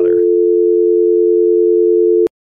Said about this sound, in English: A dial tone